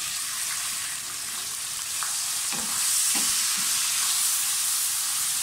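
Onions and cumin frying in a pan for palak paneer, a continuous close sizzle with a few soft stirring scrapes and a slight swell in loudness partway through, no talking.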